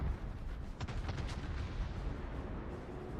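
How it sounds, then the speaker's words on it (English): A barrage of armor-piercing shells from a warship in World of Warships booms as a continuous low rumble of heavy gunfire, with a few sharper reports standing out early, steady and fairly loud with no talking. "Heavy armored piercing barrage."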